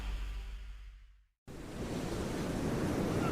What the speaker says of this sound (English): White sugar sand beach, clear blue-green water. This is Pensacola.